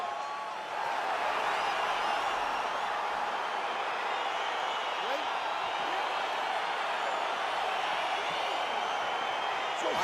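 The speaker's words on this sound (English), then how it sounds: "crowd getting excited as this fight gets underway" A UFC arena crowd roars steadily as a fight between Rampage Jackson and Jamahal Hill gets underway, a dense sustained wash of cheering and whoops that fills the whole stretch at an even level.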